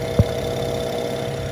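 Steady idle of a BMW E92 335i engine with an upgraded intercooler and downpipe, a low continuous hum with one brief thump near the start, fairly close and without any talk.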